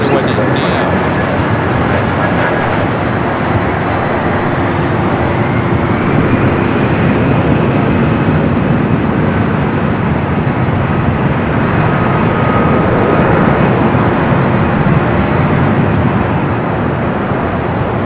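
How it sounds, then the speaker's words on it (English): A United Airbus A321neo airliner arriving at LAX from SFO, a loud continuous broadband roar holding steady, with a voice talking over it. "United Flight 1896 coming from SFO. It's an A321 Neo."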